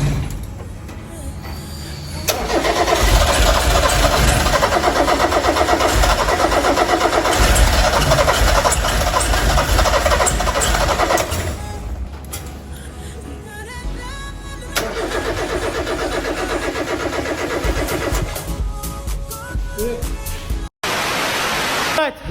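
A Volkswagen Jetta 16-valve engine, recently fitted with a new rear main seal, runs loud and close with a roughness from one misfiring cylinder. The steady running drone has brief changes in tone and a short break near the end.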